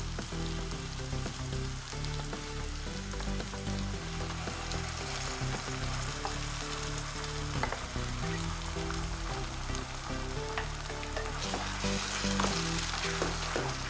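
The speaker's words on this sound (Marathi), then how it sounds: "हे चांगलं भाजून घ्यायचं आहे मसाला हा." Ground masala paste roasts in a pan for Kolhapuri misal, sizzling and crackling continuously at close range over a low tonal background hum, with no speech.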